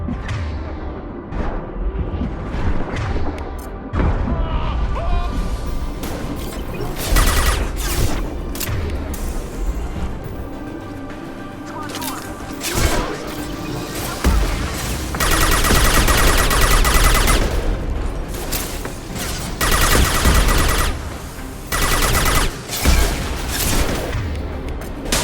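Gunfire in Mass Effect Legendary Edition cracks and booms over a constant, dense wash of game sound effects, with bursts and impacts piling up loudly across the whole stretch.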